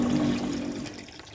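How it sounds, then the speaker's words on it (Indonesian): Water circulates through a fish pond used for growing chili plants, a soft steady trickle and gurgle close by with a low hum underneath, continuous and fairly quiet. "Tersirkulasi lagi airnya."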